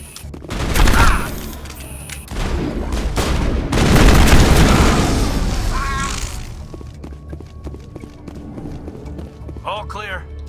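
Rapid gunfire in the Mass Effect video game, bursts of shots and heavy impacts through the first six seconds, then quieter game sounds with a voice speaking.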